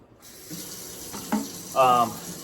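Water running steadily from a tap while parts are washed, a continuous hiss with a few brief clinks and splashes, close and moderately loud.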